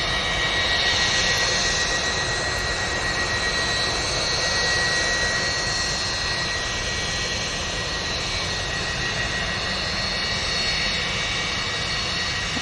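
Jet airliner engines roar steadily at Manchester Airport, a loud continuous broadband rumble with a high whine, constant throughout without pauses.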